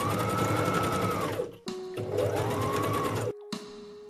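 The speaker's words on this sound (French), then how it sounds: "je retourne tout simplement mon tissu, voilà, et je continue à coudre." Sewing machine stitching fabric for a reversible tote bag, two loud runs of fast rhythmic needle chatter, each slowing and stopping with short pauses between, close up and alone.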